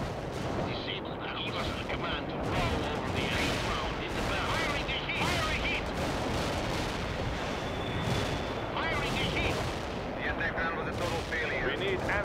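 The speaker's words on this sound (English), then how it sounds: "Anti-tank strike is inbound." Anti-tank strike explosions thunder in the video game World in Conflict, a dense continuous barrage of booms and crackling gunfire filling the scene, with voices talking underneath.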